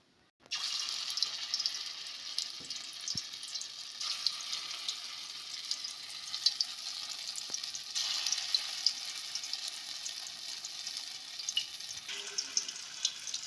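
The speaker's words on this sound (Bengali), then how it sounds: "এভাবে করে বড়াগুলোকে ভেজে ফেলতে হবে।" Chital fish balls fry in oil, making a soft, steady sizzle with occasional light clicks and knocks of a utensil in the pan, fairly quiet and unbroken.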